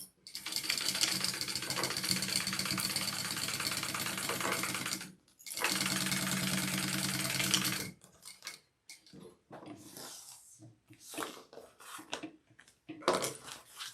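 A sewing machine bastes a pocket onto fabric in two close, steady runs of rapid stitching buzz, five seconds and then about two seconds long, with a short pause between, followed by quiet handling and a voice talking.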